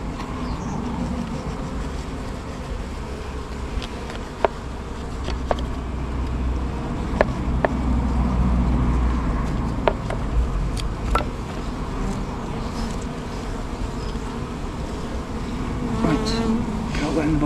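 Bees buzz in a dense, continuous drone while a colony is removed from a bin, close and loud throughout, with a few faint knocks and clicks mixed in.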